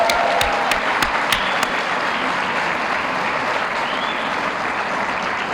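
Steady audience applause at an awards event honoring a Citizen of the Year, a dense wash of many hands clapping close and continuous, with a few sharper claps early on and no talk over it.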